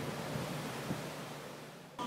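Ocean waves at sea, heard from the deck of a Disney cruise ship, make a faint, steady wash of surf and wind noise throughout, ending in a soft thump.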